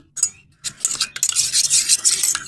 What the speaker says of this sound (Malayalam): ഇത് നമ്മൾ ഒന്നുകൂടി നന്നായിട്ട് നല്ല മിക്സ് ചെയ്ത് കൊടുക്കുക